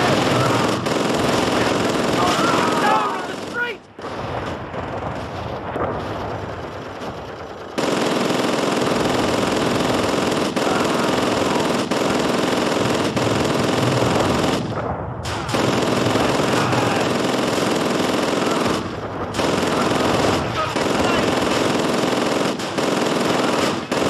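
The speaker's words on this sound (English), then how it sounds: "Man that MG now!" Sustained, loud machine-gun fire from a manned MG emplacement in the Call of Duty: Roads to Victory war game, rattling in long continuous bursts with brief pauses, over a battle din.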